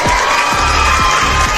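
A crowd at a hip-hop competition semifinal cheers and applauds loudly and continuously. The sound is brief and dense.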